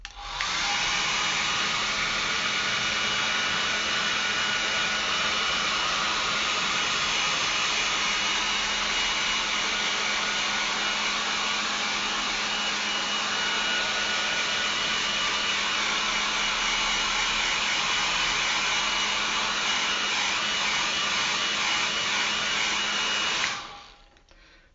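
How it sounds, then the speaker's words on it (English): A hair dryer runs over a watercolour painting as a close, loud, unbroken airy roar for nearly 25 seconds, then switches off abruptly, with no voices. "I'm just going to dry them off really quickly"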